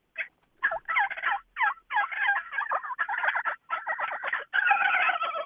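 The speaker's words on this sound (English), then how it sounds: "the turkeys are gobbling" Several wild turkeys gobble in rapid, overlapping bursts, loud and close, with no talking.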